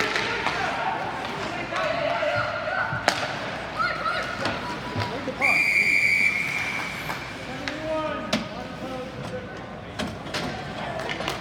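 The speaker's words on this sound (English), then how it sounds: "Blow the whistle." At a junior ice hockey game, a referee's whistle gives one short, shrill blast over constant rink noise, crowd shouting and thumping puck and board impacts.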